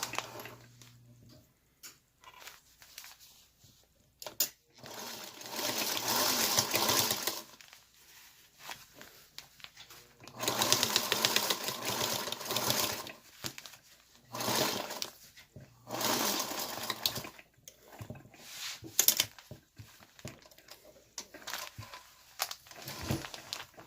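A sewing machine finishes a seam on a fabric bunny head, running in a few steady bursts of moderate loudness separated by quiet stretches with small handling clicks.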